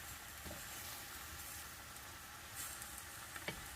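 Dry sukiyaki being stir-fried in a pan, a steady close hiss of sizzling with occasional soft scraping clinks of a utensil, faint and continuous, with no speech.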